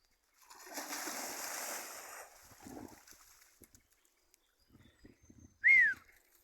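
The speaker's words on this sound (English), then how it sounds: "Murphy, go and fetch a stick in the water." A dog splashes into a current-swept river to fetch a stick, a soft rushing splash lasting a couple of seconds, then scattered faint water sounds and a short sharp bird call near the end.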